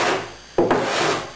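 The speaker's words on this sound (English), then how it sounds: "I've taken out my little low-angle plane" A single quick rasping stroke of a small low-angle hand plane shaving across wood, close up, with a brief gap mid-stroke and no talking.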